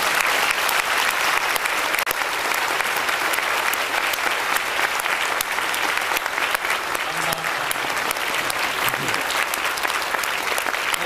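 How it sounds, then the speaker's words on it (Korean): A congregation at a church service claps for about eleven seconds, sustained and even, dense and loud from a large room, with faint murmurs underneath. "우리 경의의 박수 한번 드리겠습니다"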